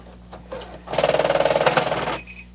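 A Singer Heavy Duty 6800C sewing machine stitches through eight layers of webbing, a loud close mechanical whir with a rapid steady pulsing of needle strokes for about a second, then slowing with a few clunks and a brief high beep.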